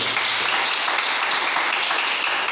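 A church congregation applauds during a French-language sermon, a steady, full burst of many hands clapping together, loud and even for a couple of seconds with no voices above it.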